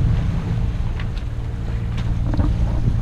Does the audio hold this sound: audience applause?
no